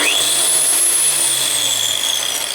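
The motor of a Wandeli QX-1200 tile cutter switches on. A rising whine settles into a steady high-pitched hum with a low drone underneath, close and continuous, with no talk.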